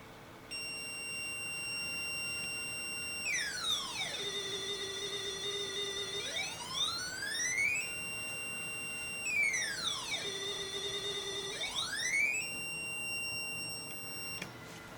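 A micro:bit speaker plays synthesized alarm-like electronic tones: steady beeping pitches with two long sweeping glides that fall and rise again, loud and clear with no voices.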